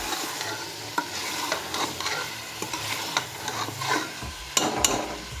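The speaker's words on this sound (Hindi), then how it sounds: "हम इसके अंदर आलूओं को भी डाल देंगे ताकि टमाटर और आलू जो है वो एक साथ ही भुनाई हो जाए" Potatoes and tomatoes fry together with beef keema in a pan, a steady close sizzle broken by scraping stirs and occasional spoon clinks, with no talking.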